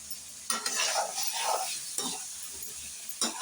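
Bottle gourd being sautéed in a pan for a curry, heard as several separate spatula stirs at irregular intervals, each bringing a burst of sizzle, close and moderately loud.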